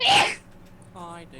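A single loud, sharp human sneeze bursts out at the start, then a person speaks a short greeting as the sneeze fades.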